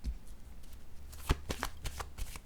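Tarot cards are handled while one is drawn from the deck, giving a few soft, quick riffling and flicking sounds close to the listener in a quiet room.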